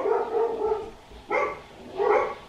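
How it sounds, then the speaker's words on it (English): Several dogs bark loudly and close by in a house, one drawn-out bark followed by two sharper woofs. "The dogs are going crazy, hold on."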